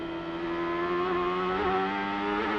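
A CART race car engine from 1998 screams on the Detroit street circuit, a steady high-pitched whine that climbs slightly in pitch as revs build, heard from a distance and without talk over it.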